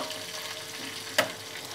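Tempering frying in ghee in a pan, a steady close hissing sizzle with one sharp crackling pop near the end.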